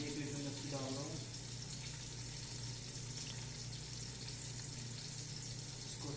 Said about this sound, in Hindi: तो मैं 1 लीटर लस्सी डाल रहा हूँ